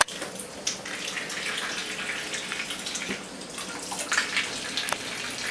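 Tap water runs steadily into a kitchen sink during dishwashing, a soft continuous splashing with a few light clinks and drips nearby, and no voices over it.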